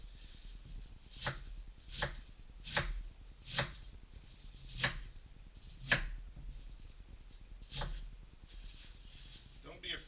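A knife chops a cabbage on a cutting board for soup, with about eight crisp, evenly spaced strikes roughly one per second, each a close, clear thud.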